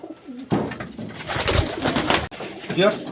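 Racing pigeons from a 100 km race loft coo loudly and close, with a couple of throaty calls and some rustling; a voice speaks over them.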